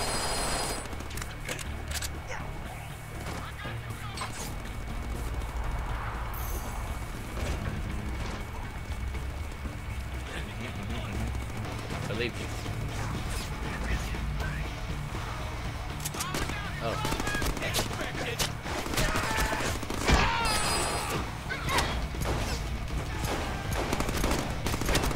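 Upgraded guns spray enemies in the Deadpool video game, a dense, steady barrage of rapid gunfire running throughout the clip with bursts of impacts layered over it.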